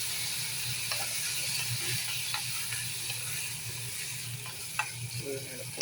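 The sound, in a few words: boiled koorka and chilli frying in oil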